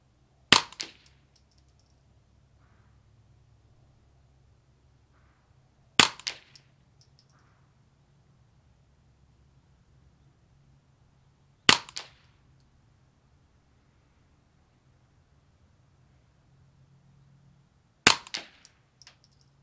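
Four sharp .22LR shots from a Ruger 10/22 rifle fired at targets, evenly spaced about six seconds apart with quiet between them and a faint low hum underneath.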